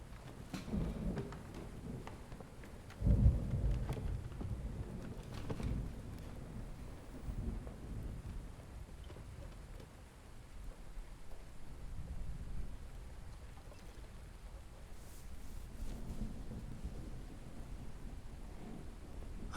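Steady rain pours through a thunderstorm, with a heavy thunder crack near the three-second mark and low rumbles rolling on through the rest, no voices.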